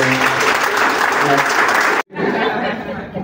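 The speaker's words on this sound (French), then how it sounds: "Applaudissez pour Forever." Loud audience applause rings out in a room, a thick wash of clapping mixed with some laughter and chatter that cuts off abruptly, followed by quieter crowd noise and talk.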